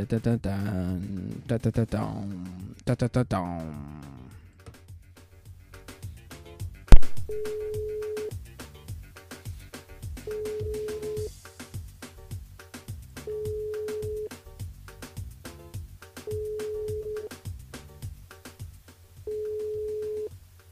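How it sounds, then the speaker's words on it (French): Telephone tones sound from a radio studio switchboard as a call goes out, with dialing beeps and a repeated ringback tone at regular intervals while a voice talks over the opening seconds. "on appelle Nathalie sur le standard pour une vérification."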